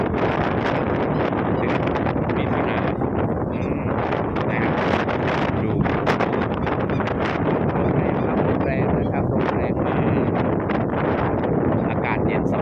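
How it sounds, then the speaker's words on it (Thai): Cool wind blowing outdoors buffets the microphone in a loud, continuous roar that never lets up, with someone talking over it. "ลมพัดเย็น"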